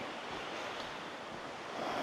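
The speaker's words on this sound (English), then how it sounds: "we find ourselves at Helton Creek Falls" Steady broadband rush of the small Helton Creek Falls waterfall in Georgia, heard from close by as a constant roar filling the whole stretch, with no voices.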